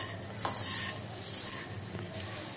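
Whole spices such as cinnamon, cloves, cardamom and cumin frying in hot oil for a vegetable kurma, faint crackling and light stirring scrapes in a pan, a few soft bursts, no talk.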